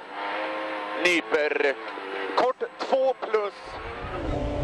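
A Ford Fiesta R2T rally car races at a rally stage in the Azores, its engine revving and shifting with sharp rises and cuts, heard under French commentary.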